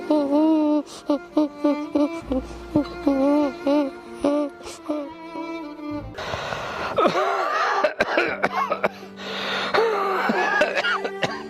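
Elderly man coughing hard and repeatedly while ill, with wheezy, gasping breaths between loud, close bursts, and a sustained tone running underneath.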